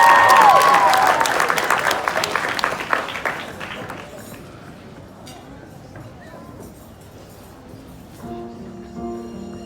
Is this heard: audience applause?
yes